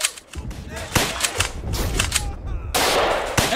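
Rapid gunfire from a World War II battle on Juno Beach in Easy Red, with dense bursts of shots and loud broadband cracks. The shooting is continuous and close, and a voice shouts briefly amid the firing.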